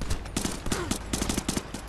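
Gunfire crackles in a video game in quick bursts of shots layered over steady battle noise, loud and continuous for about two seconds.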